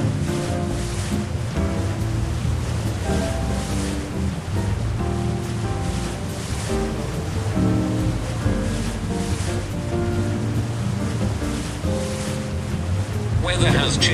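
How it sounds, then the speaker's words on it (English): In the Brazilian Ship Games Simulator mobile game, big waves hit the ship amid a steady wash of surf and wind, loud and continuous throughout, with a voice speaking over it. "Weather has changed suddenly. Big waves might hit the ship."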